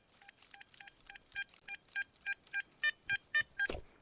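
A Garrett Ace Apex metal detector sweeping stubble beeps out a steady run of about a dozen short, evenly spaced electronic tones that grow slightly louder, ending with a sharp click.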